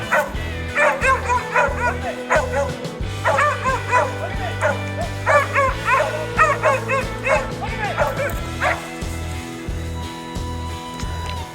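A tracking dog bays and yips in rapid repeated bursts, mixed with high whimpers, close and loud after finding a downed deer, while a low rhythmic engine-like drone pulses underneath.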